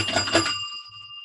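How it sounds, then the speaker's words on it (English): A bell is struck once and rings out with clear, sustained metallic tones that slowly fade, preceded by a brief burst of noise. "Ring the bell."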